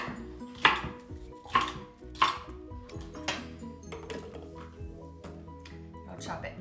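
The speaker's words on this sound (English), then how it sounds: "I'll chop it nice and fine" A knife chops carrots and celery in a home kitchen, giving a few sharp, uneven knocks against a board close by, with a soft background hum and no clear speech.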